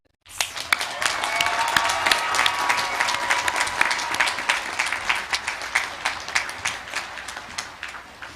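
Commencement audience at a university graduate and professional ceremony applauds the newly named graduates: dense, sustained clapping from a large crowd that swells quickly and stays steady before thinning into scattered individual claps.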